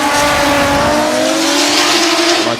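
JZX Chaser drift cars at a Formula Drift Japan round, engines screaming at high revs with tire squeal over a steady, loud, close roar throughout, no talk.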